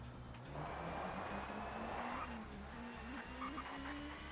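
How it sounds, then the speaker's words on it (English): Racing cars roar steadily in the PS1 game TOCA Touring Car Championship, engine tones rising and falling with gear changes while tires squeal in long skids, all loud and continuous. "The sound of the cars bringing back so many memories"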